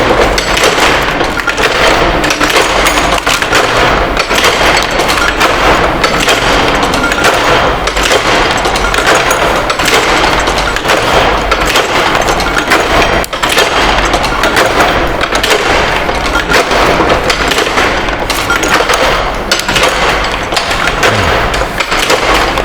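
An old letterpress printing machine in Nilkhet runs loudly and continuously, a dense mechanical clatter and thumping with no pause.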